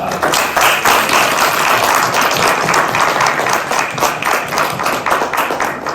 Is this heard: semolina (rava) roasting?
no